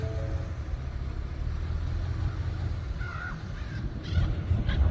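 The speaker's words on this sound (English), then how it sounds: "so there's the crows up there" Crows caw at a remote northern dump in Colville Lake, scattered harsh calls from a distance over a low engine rumble, with a few louder caws near the end.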